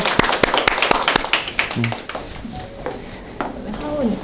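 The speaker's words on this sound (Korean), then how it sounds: "다시 한번 축하 박수 한번 보내주시겠어요?" Children and congregation at a church Sunday service clap, with a burst of applause that fades within two seconds before a voice carries on speaking.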